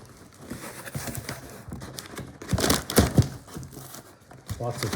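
Cardboard and paper packing material is handled up close, with crisp crinkling and rustling bursts that rise and fall over a few seconds, louder in the middle and at the end.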